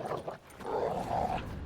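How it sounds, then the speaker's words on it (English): Dogs bark in the video game The Witcher 3, a couple of short yips followed by a longer, mid-pitched growling bark, sounding fairly close with no talk over them. "Just beware of the dogs."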